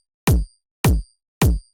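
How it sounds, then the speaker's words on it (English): Three identical punchy kick drum hits with a ring-modulated, metallic ring on top land about 0.6 seconds apart, each with a deep booming body that decays quickly into silence. "So that makes my kick sound like this."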